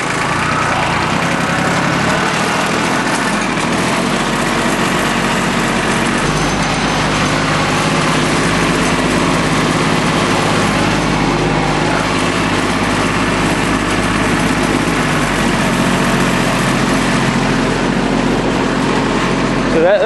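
A Yanmar YM1401D diesel four-wheel-drive tractor engine runs steadily and loudly up close, droning through gear shifts from third down to second without a break.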